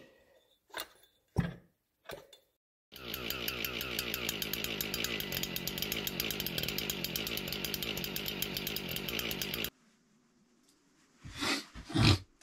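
An old saw machine, freed after being jammed, runs with a loud, steady rasping mechanical drone for several seconds, bracketed by brief knocks and clunks before and after.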